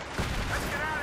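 Gunfire rattles in the Battlefield 3 co-op mission Operation Exodus as a player shoots an enemy sniper, a dense burst of shots and booms with a player talking over it.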